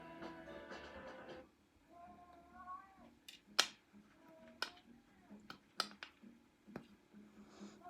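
A cat meows softly a couple of times in a quiet room where polymer clay is being worked, followed by a scatter of light clicks and taps; everything stays faint.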